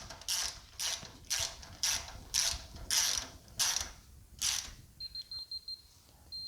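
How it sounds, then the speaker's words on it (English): A digital torque wrench tightens fasteners on a longarm quilt frame: about eight steady ratcheting strokes in a regular rhythm, close and clear, then a run of short, even electronic beeps as the set torque is reached. "I'm using a digital torque wrench to ensure I don't over tighten the fasteners and strip their threads"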